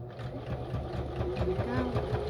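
A sewing machine stitches through a junk journal page made from a master board, a close mechanical whirring with rapid needle pulses that speed up toward the end, while someone talks over it.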